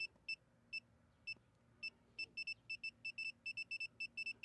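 Short high-pitched electronic beeps from a circuit breaker finder, sparse at first then repeating quickly in a fast steady rhythm, over a low background hum.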